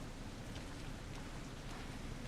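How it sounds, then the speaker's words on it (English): Rain falling in Resident Evil: Revelations 2, a steady, fairly faint wash of dense hiss that holds evenly throughout with no distinct drops, thunder or voices. "Here comes the rain."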